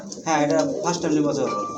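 Soft, throaty pigeon cooing in a few repeated rolling phrases, close by and fairly steady, with a faint hum in the background.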